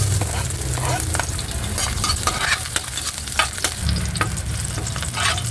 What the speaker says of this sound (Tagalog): Kaya ilalagay na natin guys yung ating bawang at mainit na yung ating mantika.